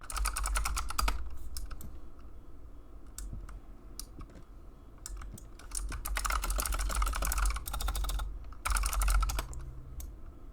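Computer keyboard typing during play of the horror game Demonologist, with steady clusters of close, crisp key clicks in bursts over a low background hum, no talk.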